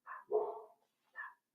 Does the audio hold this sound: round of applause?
no